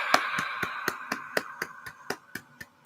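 A brief round of a few hands clapping in a slow, regular rhythm, roughly a dozen distinct claps close by, fading out toward the end.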